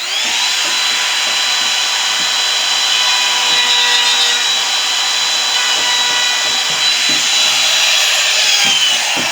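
A wood router cleans out a recess in a wooden machete handle, a continuous loud high-pitched whirring buzz with small bursts of chatter as the bit bites into the wood.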